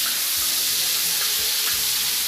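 Dried beef, carne seca, sizzles as it goes into a hot frying pan while cooking feijão tropeiro, a steady close crackle of frying fat with a few soft stirring knocks and no talking.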